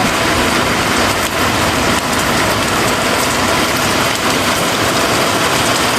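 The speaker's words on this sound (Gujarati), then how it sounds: "જો વરસાદ ચાલુ થઈ ગયો છે" Heavy rain at a shop during a temple fair in Mangrol, Tharad pours down in a dense, steady roar, drumming close by on a surface without a break.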